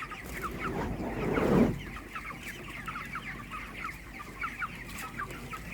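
Broiler chickens about 25 days old cluck in an open raised poultry house, many birds murmuring together in a steady chattering mass, with a brief louder flutter near the start.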